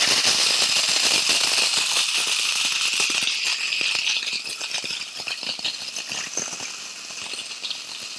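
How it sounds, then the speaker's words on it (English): A small food processor chops crunchy chocolate pieces, a loud continuous rattling clatter of hard chunks striking the blade and bowl, easing slightly partway through. "We're gonna put this in our little processor here."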